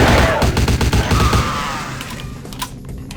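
Rapid automatic gunfire from the video game Vampire: The Masquerade – Bloodlines rattles in a loud, dense burst for about a second and a half, then thins out into scattered shots and a fading tail.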